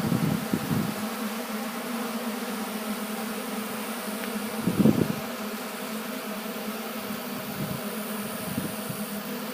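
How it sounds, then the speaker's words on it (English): A wasp and a fly buzz close by in short intermittent bursts over a steady background hum, one louder pass rising briefly near the middle, at open-air winter livestock feed. "Even that wasp and fly are liking the buffet."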